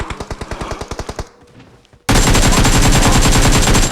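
Automatic weapon fire from the mobile game PUBG Mobile: a rapid burst of about fifteen sharp shots, a short lull, then a dense, loud, continuous barrage of overlapping gunfire that keeps going to the end.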